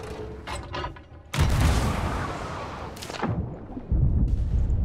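Ship cannons firing in the pirate video game Sea of Thieves, with heavy booming blasts that hit in sudden loud bursts over a rumbling background, several shots in under five seconds.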